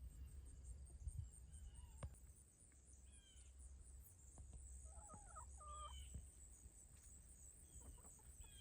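Chickens cluck and murmur softly in the distance over a steady outdoor hiss, with scattered short calls and a few sharper clicks.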